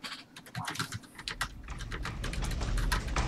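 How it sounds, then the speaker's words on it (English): Rapid clicking of computer keys while playing DayZ, steady and close, with bursts of typing running continuously and growing slightly busier toward the end. "I was typing it normally, but I'm going to put it in all caps."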